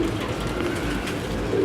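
Pigeons coo softly in a loft of cages, low murmuring calls repeating over steady background noise, with no clear talking.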